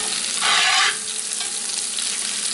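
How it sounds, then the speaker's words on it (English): Sausage frying in a pan for jambalaya gives a loud, continuous sizzle up close, with a brief surge of hissing as the pieces are stirred. "had our sausage cooking for about 20 minutes"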